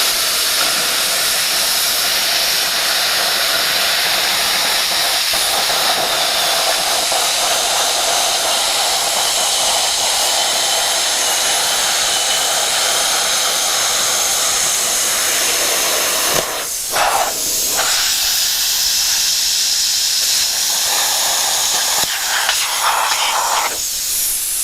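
A Yeswelder CUT55DS non-touch pilot arc plasma cutter slices through 1/8 inch square steel tube in a loud, steady, roaring hiss that holds for about fifteen seconds. It then sputters and breaks off into short bursts near the end.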